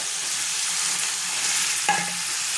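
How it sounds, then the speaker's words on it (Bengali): Ginger, garlic and onion paste fries loudly in mustard oil for biriyani, a dense close sizzle with stirring scrapes and a brief clatter near the end. "এবার আমি মধ্যে দিয়ে দেবো আদা রসুন পেঁয়াজ বাটাটা"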